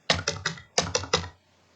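Six crisp computer keyboard keystrokes in two quick groups of three, close and clear, as an amount of 4 million rupiah is entered in MYOB accounting software.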